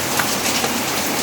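Heavy rain pours in a dense, bright, steady hiss that stays loud and even throughout the brief moment, with no voices.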